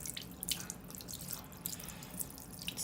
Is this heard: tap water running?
yes